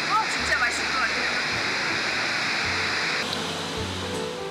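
Cool stream water rushes steadily beside an outdoor breakfast spot in rural Turkey, a constant close wash of flowing water with a faint low hum and a few brief chirps on top.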